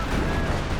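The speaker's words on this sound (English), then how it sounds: "Pack 38 firing away." A Pak 38 anti-tank gun fires in the World War II strategy game Company of Heroes, a short, dense blast with a low rumbling body that fills the whole moment and stands alone without talk.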